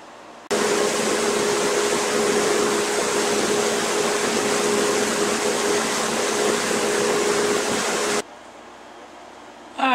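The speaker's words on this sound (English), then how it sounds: "Alright, so I sanded it to 120." A power sander works a wooden drink muddler, a steady loud broadband whir with a faint tonal hum that runs for about eight seconds and then cuts off abruptly, leaving a quiet room.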